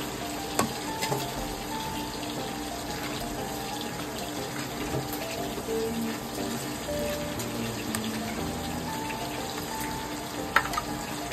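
Beef seasoned with pepper and beef cube frying in a pan, giving a steady, dense sizzle with scattered pops and clinks throughout, no voices.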